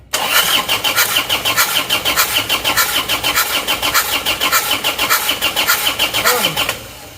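A Toyota Panther diesel engine, being checked for rough, shaky idling, cranks on its starter during a cylinder compression test: a steady, loud, rhythmic chug of starter turns for about six and a half seconds, then stops abruptly.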